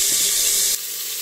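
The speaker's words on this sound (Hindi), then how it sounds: "थोड़ा सा तेल गर्म हो जाए, मैरिनेट करके रखा हुआ मटन शामिल कर देंगे।" Marinated mutton hitting about two tablespoons of hot oil in a pressure cooker gives a loud, steady hissing sizzle that drops suddenly to a quieter fizz partway through, with no talking.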